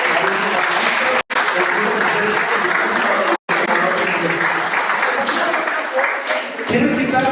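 A crowd at a panel discussion claps loudly and steadily, a dense wash of applause that continues throughout with only two brief cuts.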